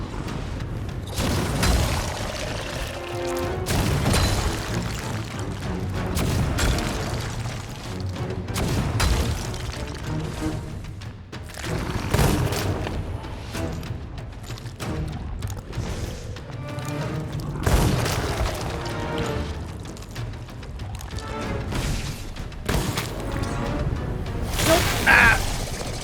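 Repeated heavy booms of ship cannon fire in the pirate video game Sea of Thieves, loud and dense over a continuous roar, with shots landing every second or two and no clear pause.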